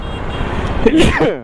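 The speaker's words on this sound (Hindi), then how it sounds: "छींक आ गई मेरे को।" A person gives one sharp, loud sneeze outdoors with road traffic humming behind. Speech is heard before the sneeze.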